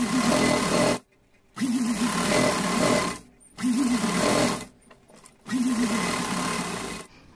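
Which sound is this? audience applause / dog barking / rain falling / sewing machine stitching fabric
sewing machine stitching fabric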